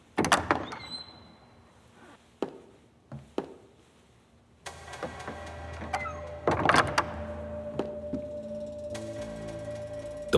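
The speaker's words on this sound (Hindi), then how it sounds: "दरवाजा खोलो।" A heavy door in a period drama palace setting is opened with a sharp thunk, followed by scraping and a sustained creaking hum, scattered knocks and clatter around it, moderately close with no talk.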